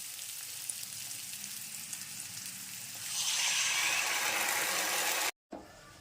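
Chicken 65 masala with spice paste bubbling and sizzling in a pan, a steady low crackle that swells louder partway through, then cuts out briefly before resuming.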